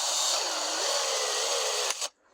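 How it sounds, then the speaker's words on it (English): A cordless drill whirs steadily while driving fasteners into an aluminum boat frame for a fiberglass boat, a close, even high-pitched motor whine for about two seconds before stopping abruptly. "you just simply let the drill do the work"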